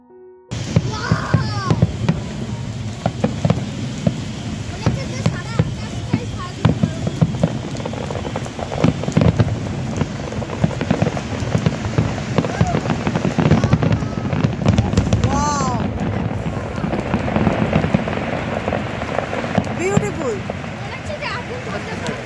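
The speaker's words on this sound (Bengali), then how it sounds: "অ্যাকচুয়ালি এগুলোকে ফায়ার ওয়ার্কস বলে।" Outdoor fireworks set off for Kali Puja night in India burst irregularly with crackling pops and whistling rockets, some close and others farther off, over a steady hiss of background noise.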